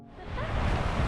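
A small wave breaking and rolling onto the village beach at Teahupoo, Tahiti, a single soft wash swelling from quiet to a steady hiss of surf.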